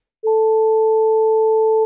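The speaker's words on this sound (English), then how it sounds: "watch what happens when I add a second sine wave playing at twice this value," Two steady synthesizer sine tones sound together, 440 Hz and 880 Hz an octave apart, holding one clean, unchanging pitch for about a second and a half with sharp starts and stops, loud and alone.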